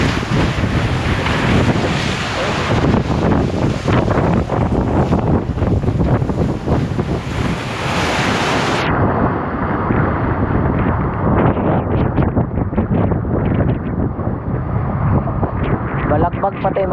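Loud typhoon wind buffeting and rushing water on the Pacific Ocean, a constant roaring wash with a small boat's rumble and a voice talking over it.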